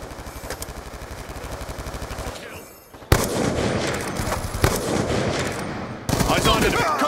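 Sustained automatic fire rattles in Call of Duty: Black Ops 2 multiplayer on the Nuketown map, a fast steady stream of shots that breaks off briefly before louder, denser bursts resume near and loud.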